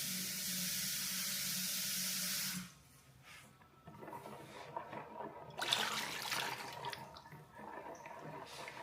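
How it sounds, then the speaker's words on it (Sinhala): Water poured into thick coconut milk to thin kokis batter, a steady pouring and splashing wash for the first few seconds, then softer trickling and liquid sounds mixed with faint handling noise. "මම මේකට තව වතුර ටිකක් එකතු කරගන්නවා"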